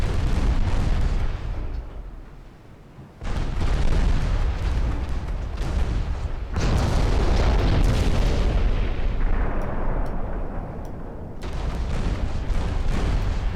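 A warship in a naval war video game takes heavy shell hits, a relentless barrage of loud booms and blasts rolling into one another, with only a brief lull before the pounding resumes.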